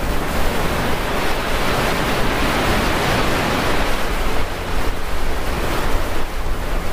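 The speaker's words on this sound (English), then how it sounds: "Too bad the wind's blowing today, like it is." Strong wind blowing across the Mt Nebo State Park overlook near the visitor center, a loud, steady roar buffeting the microphone throughout with no pauses and no talk.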